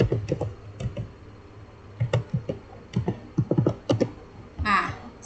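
Scattered key clicks from a computer keyboard as a command is typed on a PC during a Cisco switching network exercise, close and moderately loud, with a brief burst of faster keystrokes near the end and a low voice faintly underneath.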